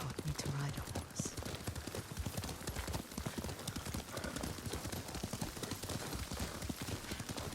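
Hooves clip-clopping steadily as a horse is ridden in Ghost of Tsushima, a quick even gallop rhythm close by, with faint game dialogue beneath.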